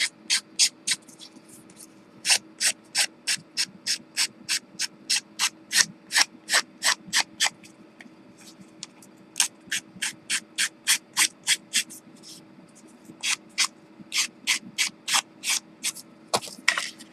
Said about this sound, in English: sand the edge